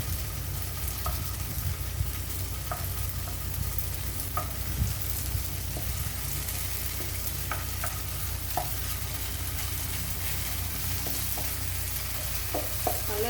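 Shallots fry in hot oil toward golden with a continuous sizzle and faint crackling. Scattered small clicks of stirring sound over the frying, and nobody speaks.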